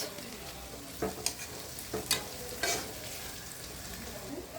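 Beef being stirred and fried in a pot as onions go in, with a steady soft sizzle broken by several sharp scraping stir strokes, close and fairly quiet.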